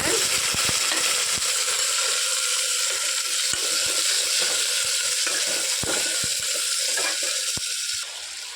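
Garlic and chopped tomatoes fry in a pan with a steady, bright sizzle, while a spoon scrapes and stirs in repeated irregular clicks and knocks close by, and no one speaks.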